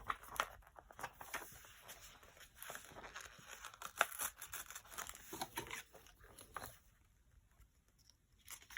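A page being ripped out of an old book for junk journal crafting, heard as soft close tearing and crinkling paper in irregular bursts, fading toward the end.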